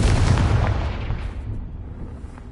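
Spell explosion from Bombarda or Confringo in Hogwarts Legacy, a single loud close boom with a rumbling, fading tail over a couple of seconds, no talking.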